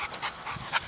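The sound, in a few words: dog panting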